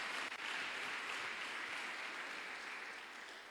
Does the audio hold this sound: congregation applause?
yes